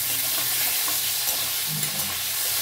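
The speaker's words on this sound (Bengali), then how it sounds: "খুব ভালো করে ভাজবো, কিন্তু সুন্দর করে, একদম ভাজতেই প্রায় সেদ্ধ হয়ে যাবে।" Potato and pointed gourd pieces coated with salt, turmeric and a pinch of sugar fry in hot oil, giving a steady, fairly soft sizzling hiss with faint stirring scrapes and no talk.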